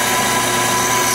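A power tool cuts into a 303 stainless steel bolt, producing a loud, steady, high-pitched whine that holds even for the whole short burst.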